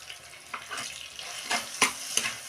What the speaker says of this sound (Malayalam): ഉള്ളിയും വെളുത്തുള്ളിയും ചതച്ചത് ഇതിലേക്ക് ഇട്ട് കൊടുക്കാം.